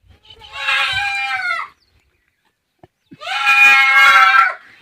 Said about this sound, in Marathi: शेळींनी आमचा आवाज ऐकला आता गाडीचा पण आवाज ऐकला तर बघा ते किती ओरडत आहेत आमच्यासाठी